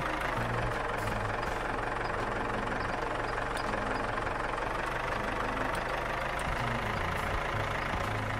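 A tractor engine drones steadily while mowing in the farming game Farmer's Life, a continuous low rumble with a faint knocking idle texture that holds evenly from start to finish with no voices.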